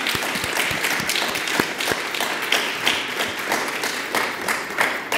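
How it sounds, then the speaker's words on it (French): An audience claps for the winners at the French Republic's secularism prize ceremony, a sustained round of applause with distinct individual claps standing out near and crisp against the general patter. "je voudrais vraiment qu'on puisse vous applaudir tous et toutes et vous dire bravo"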